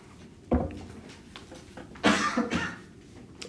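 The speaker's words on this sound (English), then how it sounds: "don't want to cough right into that." A couple of short, sharp coughs, close by, with a brief pause between them in an otherwise quiet room.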